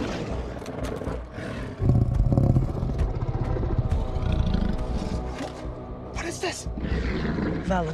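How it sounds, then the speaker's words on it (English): A zombie tiger in the film Army of the Dead roars in deep, rumbling bursts over dramatic film sound, loud and sustained across the scene. "There's a goddamn zombie tiger."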